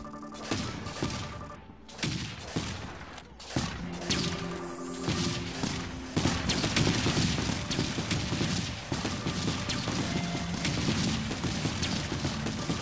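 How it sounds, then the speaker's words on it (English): Hive missile launcher firing in a video game, a dense, continuous barrage of booming launches and explosions that builds louder and keeps rolling without pause. "Hive missile launcher."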